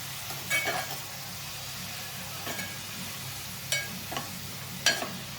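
Young tender gongura leaves fry in a pan while making gongura chutney with prawn shells, a low steady sizzle broken by a few sharp stirring scrapes.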